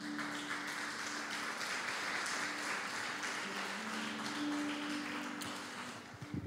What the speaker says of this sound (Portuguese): Pode aplaudir ao Senhor, amado.